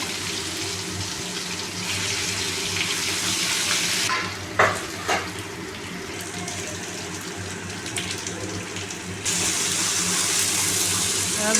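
Ghetkochu leaf paste frying in oil after a kalo jeere tempering, with a steady close sizzle and crackle, brief stirring scrapes and clatter partway through, and the frying continuing loud and even throughout.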